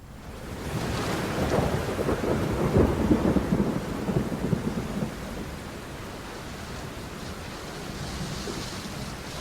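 A loud, continuous downpour of monsoon rain in the Vasai-Virar area, with deep thunder rolling through the first half before easing into a steady wash of rain.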